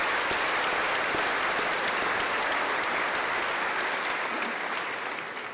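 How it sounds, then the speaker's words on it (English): Sustained, loud applause fills a crowd at a 2016 high school graduation ceremony. The dense clapping holds steady for several seconds and begins to fade only at the very end. "Round of applause."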